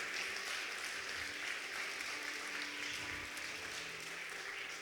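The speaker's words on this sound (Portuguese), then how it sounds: "Pode aplaudir a Jesus." A church congregation applauds during a Portuguese-language sermon, a broad, even wash of clapping from many people that carries on steadily without letting up.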